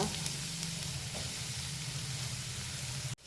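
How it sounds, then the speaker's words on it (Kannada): Chopped onions fry in hot coconut oil in a pan, giving a steady, close, dense sizzling hiss that cuts off abruptly near the end. "ಇವಾಗ ಆಯಿಲ್ ಬಿಸಿ ಆಗುವಾಗ ಕಟ್ ಮಾಡಿದ ಈರುಳ್ಳಿಯನ್ನು ಹಾಕುವ"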